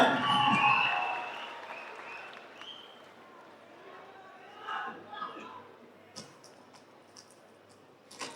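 An audience at an event with actor Suriya in Thiruvananthapuram claps and cheers, loudest at the start, then fades into scattered claps and shouts while people talk.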